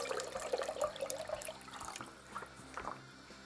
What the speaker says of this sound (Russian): Набираем опять воду в нашу кастрюлю.